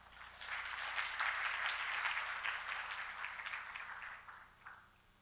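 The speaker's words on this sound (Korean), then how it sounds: "환영의 박수 부탁드립니다." Welcoming applause from a forum audience in Seoul as a guest speaker takes the stage, a broad wash of many hands that swells quickly, holds steady for several seconds, then tapers off and stops.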